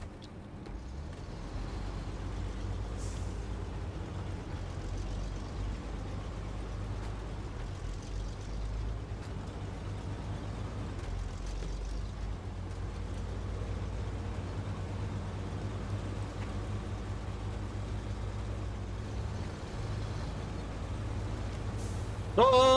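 Heavy truck in Snowrunner grinding along a risky path, a low rumbling engine drone that stays steady throughout with faint clunks, with a sharper burst near the end.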